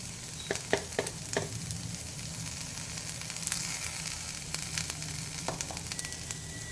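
Ivy gourd with chili, turmeric, coriander powder and salt fries in a pan, a soft continuous sizzle broken by a few sharp clicks of a spoon stirring against the pan.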